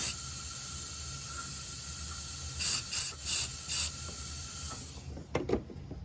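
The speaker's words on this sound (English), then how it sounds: "blow through that hose just to make sure that nothing is coming out and it's not clogged" Puffs of air blown through the fuel tank hose of an Icebear 49cc scooter trike, several short breathy hisses in a row over a faint background hiss, then a few rustling clicks.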